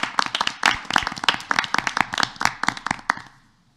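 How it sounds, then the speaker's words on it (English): An audience at a school district board of education meeting gives a short burst of applause for district employees, with dense overlapping hand claps rising and fading out over a few seconds. "how about another round of applause for all of our employees?"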